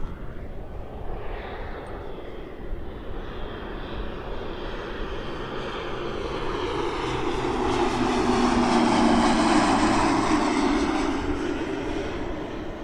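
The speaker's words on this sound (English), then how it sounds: "Oh, mandatory plane break." A propeller airplane passes overhead, its drone swelling gradually to a loud peak and lingering without any talk.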